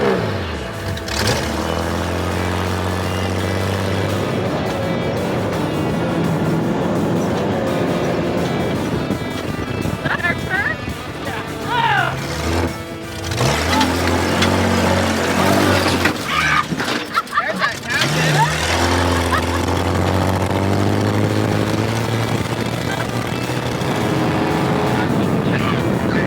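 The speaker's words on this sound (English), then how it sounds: "We're out here live at the Baja 1000. We have some cars about to come by right now." Baja 1000 off-road race cars roaring past on a desert course, loud engine noise swelling and fading as vehicles go by, with people talking over it.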